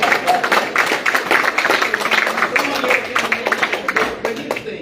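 Audience applauding at a Marion County Democrat meeting, a steady dense burst of clapping from the crowd that holds for several seconds at a fairly loud, even level.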